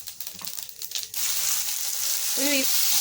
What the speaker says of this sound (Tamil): நம்ம அரிஞ்ச வெங்காயத்தை வந்து காஞ்ச எண்ணெயில் போட்டு வச்சு, காஞ்ச எண்ணெய்மா போட்டு இப்போ நம்ம வந்து வதக்கிட்டு இருக்கோம்